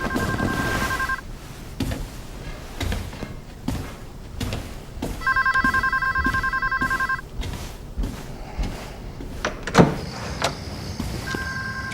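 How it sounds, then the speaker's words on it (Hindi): An electronic phone ringtone trills in two clear bursts, separated by a stretch of low background rumble and movement, with a brief clatter in between. "तुम्हारा फोन बज रहा है।"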